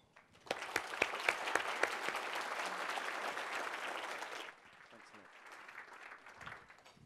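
An audience applauds warmly to welcome keynote speaker Tim Harford at a conference, with sustained clapping that rises quickly, holds steady, then thins out to scattered claps.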